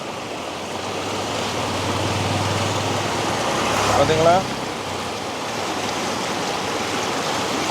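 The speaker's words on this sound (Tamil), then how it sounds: "தண்ணியை பாருங்கள் போகிற ஸ்பீடை பாருங்கள்" Fast, heavy river water rushes steadily near a broken bridge, a dense continuous roar with a brief swell midway, while someone speaks over it.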